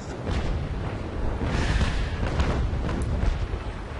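Battleship guns fire shells in a naval video game, a continuous rumbling barrage of deep booms and bursts overlapping one another at close range, with no talk over it.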